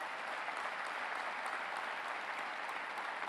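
Audience applause during a city state-of-the-city address, honoring a conservancy board and staff; a faint, even, distant roar of many hands clapping throughout.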